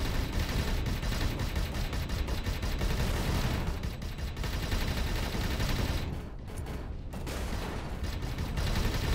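Ship guns blaze nonstop in the space game Avorion during a battle with pirates, a dense, loud barrage of rapid overlapping shots that briefly thins before resuming at full force.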